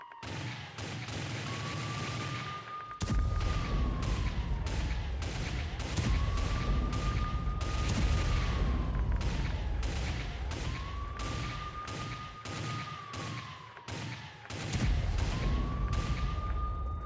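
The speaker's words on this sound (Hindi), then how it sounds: "गाजा में आमने सामने से फायरिंग हो रही है।" A burst-heavy gunfire exchange in Gaza between Hamas and Israeli forces: dense rapid volleys and sharp cracks run continuously for about seventeen seconds, with repeated rising-and-falling whistling tones overhead, loud and close, with no talk.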